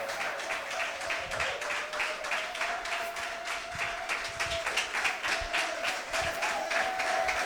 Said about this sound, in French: Klatsch für den Herrn sehr, sehr stark